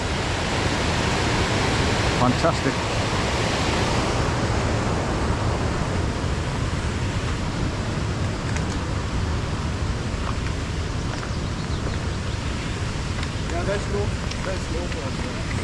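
Steady, loud rush of a waterfall pouring through gaps in rocks fills the scene throughout, with a person speaking briefly over the roar.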